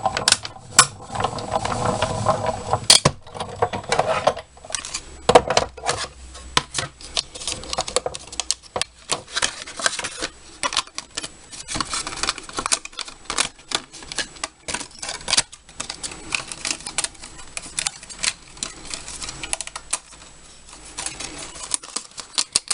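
A die-cutting machine presses Daffodil Delight cardstock through a die, producing a dense run of close, loud mechanical clicks and ratcheting clatter that continues without pause.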